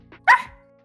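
A voice imitates a dog barking: one short, sharp, close bark with a faint lead-in sound before it.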